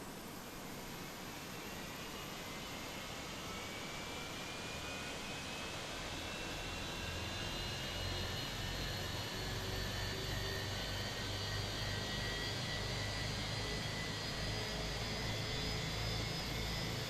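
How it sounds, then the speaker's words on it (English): Airbus A321 jet engines spinning up on the ramp at the gate, a steady loud roar and whine that slowly grows over the whole stretch with a rising turbine tone, no voices. "Let's get these engines started ASAP."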